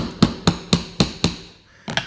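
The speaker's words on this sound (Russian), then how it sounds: "вторая стоечка, и потом аккуратно она молоточком забивается" A small hammer taps a miniature post into a model deck edge: five evenly spaced sharp knocks, a short pause, then two more quick taps, close and crisp.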